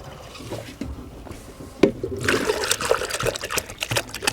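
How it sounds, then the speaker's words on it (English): Water splashes and gurgles into a 5-liter jerrycan, a close, continuous pouring rush with uneven bubbling that grows fuller partway through. "We are trying to fill this jerrycan, 5-liter jerrycan, so that we can put the equal measure of water."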